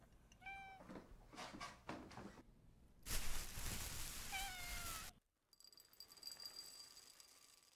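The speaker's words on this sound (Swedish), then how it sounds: "Så där, kattet." A cat meows several times up close, short rising calls mixed with rattling and handling noises, with a louder rustling stretch in the middle.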